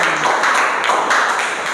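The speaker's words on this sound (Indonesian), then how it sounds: "Tepuk tangan untuk kelompok Marwah." Steady applause from a class of students cheering a student group after its presentation, dense continuous clapping at close range with no break.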